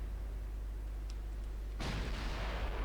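Naval gunfire in Ultimate Admiral Dreadnoughts, with an Italian ship firing armor-piercing shells: a faint low rumble gives way to one sudden heavy boom that rolls on into a sustained roar.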